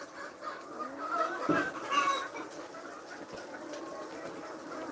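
Layer hen in a cage on a poultry farm, heard clucking a few times with short calls in the first half, mid-distance over steady farm background noise.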